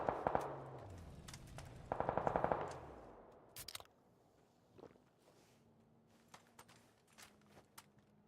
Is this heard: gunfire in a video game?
yes